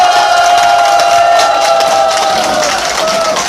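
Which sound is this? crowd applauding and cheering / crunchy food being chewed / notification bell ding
crowd applauding and cheering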